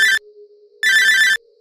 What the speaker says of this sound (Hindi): अचानक से इस घर का टेलीफोन जो था वो बजता है